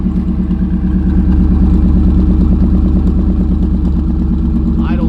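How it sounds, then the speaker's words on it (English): A Ford SVT Lightning pickup with a MagnaFlow exhaust idles close by, a loud, steady, even engine rumble with a deep pulsing burble throughout. "I'll start it up right now. You guys can hear it run."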